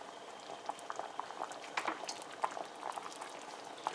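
Green plantains bubbling in a pot of water on a stove, a continuous busy crackle of bursting bubbles with small irregular pops, close and moderately quiet, no voices.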